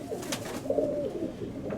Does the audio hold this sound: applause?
no